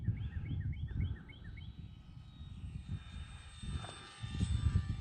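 A radio-controlled model airplane with flaps down makes a low, steady engine drone as it passes overhead outdoors over snow, with a faint whine above it and a few chirping birds early on.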